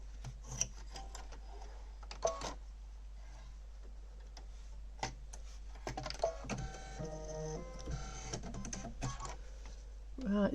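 An embroidery machine stitches a mug rug with a quiet, steady mechanical patter and faint ticking, broken by occasional sharper clicks and a brief busier stretch of whirring movement near the middle.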